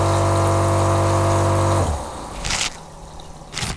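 The small electric water pump of a Gardiner V3 water-fed window-cleaning backpack hums steadily for about two seconds, then cuts off, followed by two short bursts of splashing water.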